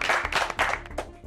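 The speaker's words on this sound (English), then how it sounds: "Contestants, you can give yourselves a round of applause." A small group of baking-competition contestants claps for themselves in a studio kitchen, a brief, uneven patter of hand claps with a cheer or voice mixed in.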